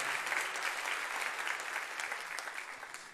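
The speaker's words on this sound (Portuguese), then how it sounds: "Aplauda o nome do Senhor Jesus esta noite." Church congregation applauding steadily at a night worship service, a dense wash of clapping hands sustained for a few seconds without speech.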